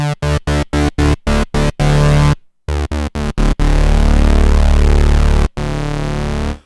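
Korg Prologue analog synthesizer with a sub-oscillator layer from voice mode depth: a run of short staccato bass-heavy notes, a brief pause, more stabs, then a long sustained thick chord that cuts out and returns, loud and alone.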